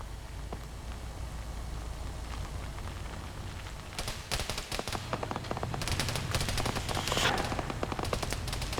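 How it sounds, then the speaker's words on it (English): Ground fire in a military video game, quiet rumbling at first, then bursts of rapid automatic gunfire crackle in from mid-distance, growing denser and louder toward the end. "Taking ground fire"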